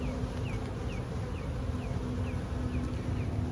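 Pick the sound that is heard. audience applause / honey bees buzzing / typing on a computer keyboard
honey bees buzzing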